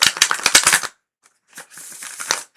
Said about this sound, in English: we flip, we flop, we shuffle